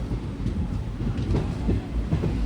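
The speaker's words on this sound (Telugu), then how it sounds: "ట్రైన్ అంటే రాయలసీమ ఎక్స్ప్రెస్ ట్రైన్ అది" A Rayalaseema Express train rumbles steadily close by, heavy low-pitched roar with rhythmic clickety-clack of wheels on the rails throughout.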